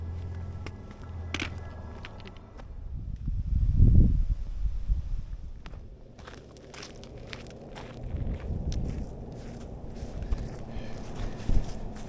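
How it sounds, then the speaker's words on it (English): Footsteps crunch steadily along a mountain access road near Clingmans Dome in the Great Smoky Mountains, close and fairly soft, with faint gear rattles and light wind. "now I am just walking along the access road to continue the loop"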